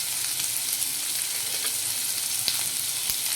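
Onions fry in oil with turmeric in a pan for a bitter gourd curry, giving a steady, loud, close sizzle with faint crackles and no talking.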